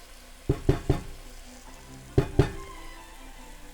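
Vegetables in a pan on the heat give a soft steady sizzle, broken by a few sharp clattering stirs in two quick clusters, with no voices.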